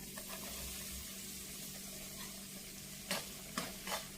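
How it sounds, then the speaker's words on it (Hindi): Wheat flour roasts in ghee in a kadhai over medium to high heat, giving a soft, continuous sizzle with faint scraping as it is stirred, plus a few brief clinks near the end. "मीडियम से फुल गैस पे कर करके बराबर इसको हम चला चला के बढ़िया गोल्डन ब्राउन होने तक भूनेंगे"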